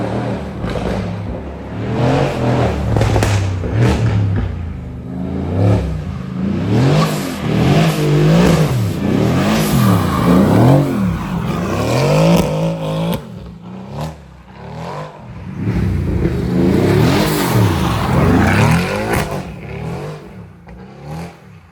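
A Mercedes-AMG GT R engine pulls hard on the Autobahn, loud and close, its pitch sweeping up through repeated gear changes with brief dips between shifts, then climbing again near the end.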